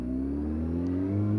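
A sports motorbike accelerates steadily through a tight full-lock U-turn on a cold winter road, its mid-pitched engine note droning close and continuous for a moment with no talk.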